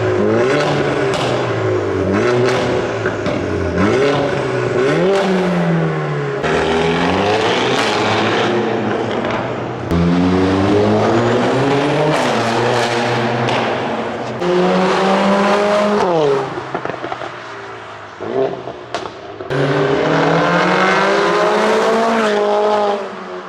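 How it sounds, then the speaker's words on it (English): A Mercedes-AMG A45S's loud exhaust roars through repeated hard accelerations, the engine note climbing and dropping with gear changes and sharp pops in between. "the A45S is shockingly loud and probably the loudest car we own"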